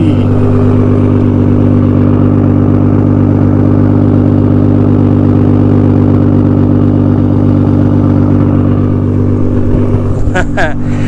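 A Nissan R32 GT-R fitted with a Tomei exhaust idles with a loud, deep, steady exhaust rumble close by, holding a constant throb throughout with a brief clatter near the end.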